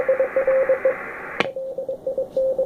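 Morse code tones from a Sproutie MK II amateur radio receiver on 40 metres, heard through a 700 Hz low-pass filter: a clear, steady train of beeping CW dits and dahs over soft hiss, broken once by a sharp click.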